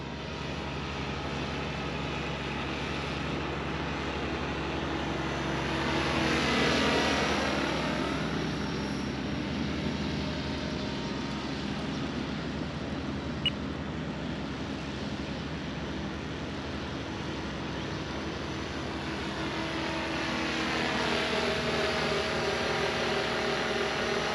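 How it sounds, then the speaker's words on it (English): A MotionRC 450 RotorScale UH-1A Huey RC helicopter, its rotor head spinning around 1700 to 1800 RPM, flies with a constant whining buzz that swells twice as it passes nearer, then fades back to a distant drone. "that's my MotionRC 450 RotorScale Huey"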